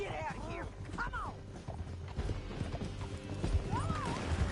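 Horse hooves clip-clop steadily in Red Dead Redemption 2, with a horse neighing and whinnying as voices talk over the riding.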